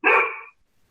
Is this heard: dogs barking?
yes